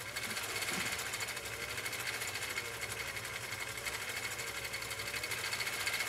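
A vintage Swedish sewing machine runs steadily through a decorative stitch, a fast continuous mechanical whir with rapid needle clatter, quiet and unbroken for several seconds without talk.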